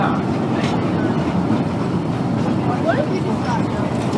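An amusement park's German-themed train at Busch Gardens crosses a suspension bridge high above a river, giving a steady, loud rolling rumble throughout with faint voices mixed in.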